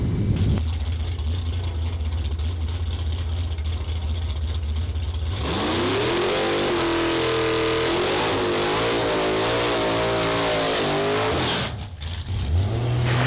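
At an Australian drag challenge event, a race car engine idles with a deep, rough burble, then revs hard and accelerates in a rising, loud roar before it drops off briefly and picks up again.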